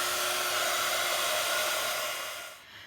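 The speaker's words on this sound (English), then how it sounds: "Best thing to do is to get your heat gun warm before you start" Heat gun blowing hot air for embossing on cardstock, a loud steady close whooshing hum that fades away at the end.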